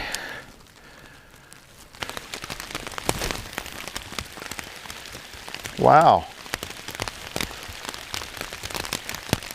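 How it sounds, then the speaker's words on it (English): Rain falls outdoors on a fishing outing, a dense, steady patter of drops hitting nearby surfaces throughout. A person briefly exclaims midway through. "Oh, here comes the rain. The rain's back."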